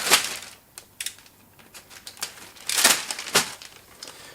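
A large A4-size plastic bag crinkles and rustles close up in short, sharp bursts with brief pauses between while unboxing floorstanding speakers.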